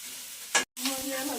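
Food cooking in a pan late at night, with a soft sizzling and stirring scrape rising briefly before a short cutout, then a steady low frying hiss returning.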